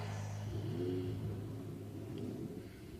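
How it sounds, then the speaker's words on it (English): Ferrari 488 Challenge Evo race car engines at the Indianapolis circuit, heard as a low, fairly quiet rumble with a brief rising rev near the start, then a steady idle-like drone. "Drivers, start your Ferrari engines."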